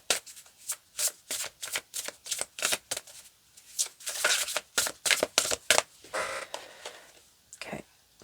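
A deck of oracle cards shuffled by hand, a rapid series of crisp riffling bursts in irregular rhythm, close and fairly loud, with a voice talking now and then.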